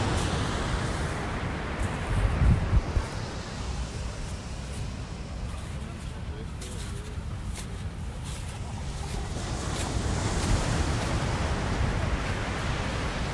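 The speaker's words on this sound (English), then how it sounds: "it's a perfect beach spot" Waves wash onto a sunny beach in a steady, broadband rush of surf that rises and falls gently, with a brief louder thump early on and no speech.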